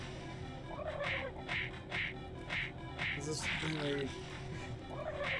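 Turkeys gobble repeatedly in the video game Doom 3 BFG Edition, a rapid series of bursts at a steady rhythm, with a voice talking briefly over them.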